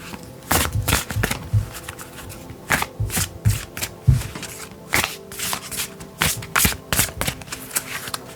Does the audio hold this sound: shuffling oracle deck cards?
yes